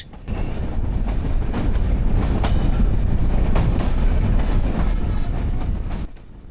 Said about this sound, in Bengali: কিছুক্ষণের মধ্যে ট্রেন হাজির হলো আলমডাঙ্গা রেল স্টেশনে।